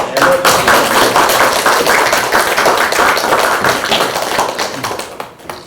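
A group claps at a Democratic Party for Peace gathering in Korea, producing a dense, brisk patter of handclaps that runs nearly throughout before tapering off at the end.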